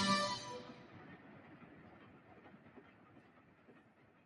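A train rumbles and clatters along the rails, starting loud after a brief whistle tail and fading steadily into the distance.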